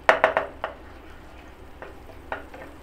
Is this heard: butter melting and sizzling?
yes